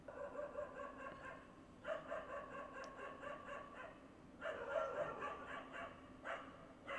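A dog barks repeatedly indoors, short yapping bursts in clusters spread across the moment, moderately loud and near, with no talk over it.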